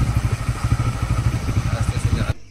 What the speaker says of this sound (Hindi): बाइक लेके Pulsar new B S six है कंट्रोल अच्छा है इस बाइक का